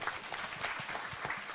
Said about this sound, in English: clap for PS.